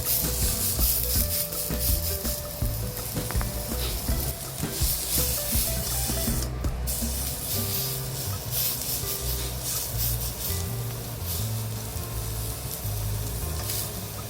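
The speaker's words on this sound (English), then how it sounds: "So all outside you have to saute." Char siu pork sautéing in a hot pan gives a continuous close sizzle and frying hiss, with scraping and rubbing as the meat is turned and no speech.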